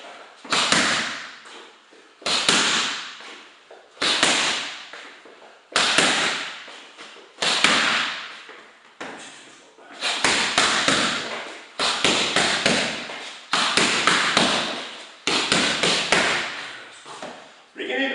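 Boxing punches land on pads during a boxercise class at a fitness centre, a series of sharp, punchy slaps in quick combinations, close and loud, with a coach speaking between them.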